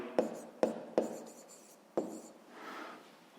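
A pen writes out a fifth-grade math solution by hand on paper, tapping and scratching in four distinct strokes followed by a softer continuous scrawl, close and quiet.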